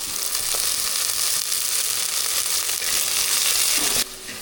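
Small onions sautéing in a pan for a country fish curry with mango give a steady, close sizzle and crackle throughout, with the frying noise briefly easing near the end; no one talks.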